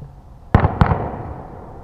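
Mortar fire in a World War II video game with a German Grossdeutschland mortar team, heard as two sharp booming reports about a quarter second apart, followed by a fading rumble.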